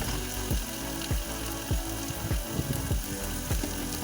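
Makhana bora fritters frying in hot oil, a steady close sizzle with soft rhythmic scraping or stirring strokes roughly every half second.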